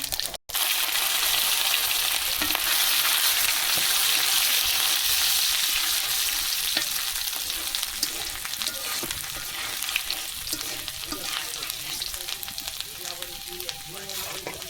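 Dried chilies, cumin and ginger frying in hot oil for khichuri, a dense steady sizzle with a brief drop near the start, then continuing with faint stirring clinks, close and loud throughout with no talk.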